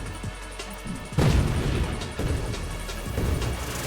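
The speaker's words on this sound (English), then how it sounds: "just spam the screen with explosions" Repeated booming explosions in the video game Nova Drift, in quick succession, loud and rumbling, with bursts overlapping in a chaotic, continuous barrage.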